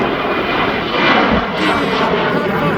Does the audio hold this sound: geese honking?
no